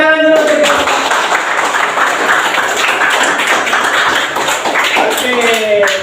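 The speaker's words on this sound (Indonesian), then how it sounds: "Oke, tepuk tangan dulu." A classroom group claps hands together in a steady burst lasting several seconds, with a voice talking briefly at the start and end.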